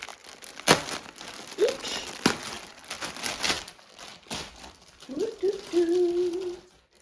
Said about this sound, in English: it's in a plastic bag, I'm sorry. I'm just gonna open it.